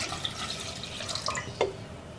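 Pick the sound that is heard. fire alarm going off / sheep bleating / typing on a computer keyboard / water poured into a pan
water poured into a pan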